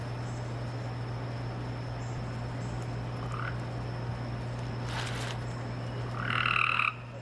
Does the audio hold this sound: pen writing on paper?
no